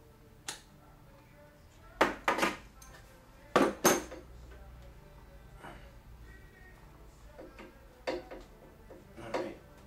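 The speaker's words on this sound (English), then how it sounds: "Let's go ahead and pull out the wrench again." Metal wrench picked up and handled while working on a carburetor from an MF 50 tractor, a handful of sharp clinks and clanks spaced over a quiet background, close by.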